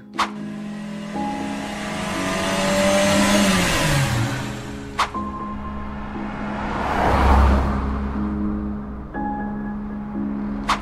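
A car engine revs up and pulls away, building to a loud surge around the middle before fading, with sharp clicks and thumps at the start and end.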